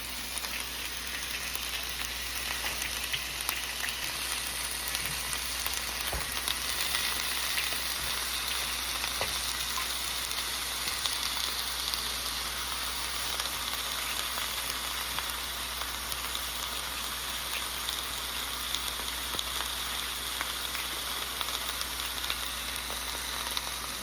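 Salmon and cod fry in a pan, a steady dense sizzle and crackle running continuously at an even level, close and alone.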